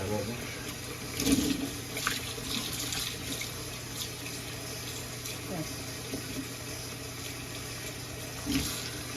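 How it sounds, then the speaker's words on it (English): Wild fox grapes are rinsed in running water, a steady tap stream with splashes and sloshing bursts as the fruit is stirred, while people talk nearby. "All right, she's gonna wash them all again."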